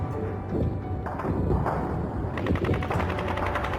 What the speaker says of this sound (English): Then the gunfire continued, and the machine fired.